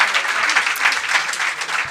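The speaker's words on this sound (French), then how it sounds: "Oui, on peut les applaudir" An audience at a public talk in Marseille applauds, dense steady clapping holding at an even level throughout.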